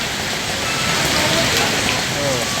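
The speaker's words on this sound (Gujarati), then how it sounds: "આપણે વરસાદ ભાઈ જોરદાર થાય." Heavy rain pours steadily and loudly over the Ahmedabad–Mumbai expressway near Surat, a dense continuous hiss with traffic stuck in a long jam.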